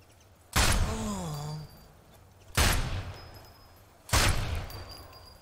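Three loud, sharp sniper rifle shots in a co-op campaign shooter, each evenly spaced about two seconds apart with a short decaying tail, over quiet game ambience.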